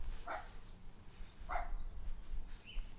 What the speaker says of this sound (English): The dogs are barking. They're driving me nuts.